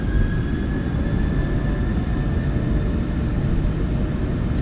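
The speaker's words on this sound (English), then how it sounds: "Takeoff power is set." Twin engines of a Boeing 737-900ER in the PMDG flight simulator roar steadily at takeoff power, a loud, constant low rumble with a thin whine running through it, with no talk.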